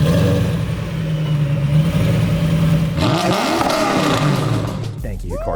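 A supercharged V8 swapped into a BMW E30, with a transmission from an E39 540, growls loudly and steadily, then rises through a couple of revs toward the end. Voices talk over the engine throughout.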